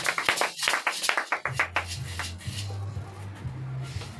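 A church congregation claps in praise during a Sunday testimony service, a quick run of close, sharp handclaps that soon fades into a murmur of voices with a low tone droning under it.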